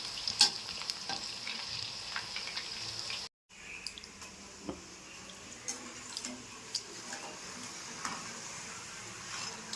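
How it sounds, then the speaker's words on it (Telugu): A snack fries in hot oil until golden, giving a steady soft sizzle with occasional stirring clinks and small pops, close by and alone apart from one brief dropout. "గోల్డెన్ కలర్ వచ్చే వరకు మనం ఫ్రై చేసుకోవాలి"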